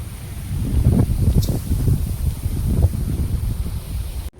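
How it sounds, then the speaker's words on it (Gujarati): Gusty wind sweeping across open farmland as rain approaches, a steady broad rush with louder surges and buffeting against the microphone, no voices. "વરસાદનો પવન છે આજ નક્કી વરસાદ ફૂલ આવી ગયો."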